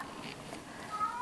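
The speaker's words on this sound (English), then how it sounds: "that's my cat" A house cat gives a short, faint meow in a quiet room, a brief soft call with some light voice nearby.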